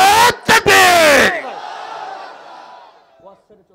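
A large crowd at an Islamic gathering in Dhaka chants the takbir in unison, a loud roaring shout that swells and then trails off into a fading echo, with a few voices lingering at the end.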